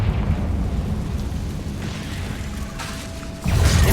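A Confringo blasting curse in Hogwarts Legacy erupts in a deep rumbling explosion, with a low heavy roar sustaining before a second, sharper boom strikes near the end.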